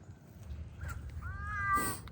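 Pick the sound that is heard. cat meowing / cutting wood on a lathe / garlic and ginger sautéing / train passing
cat meowing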